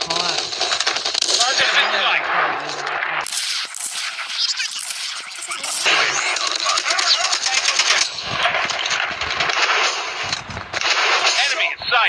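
Rapid automatic gunfire from a shooting video game, loud dense bursts that pause briefly and then resume in long sustained volleys, with a voice talking over parts of it.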